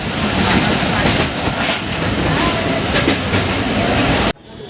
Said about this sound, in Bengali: অনেক স্পিডে চলছে ট্রেন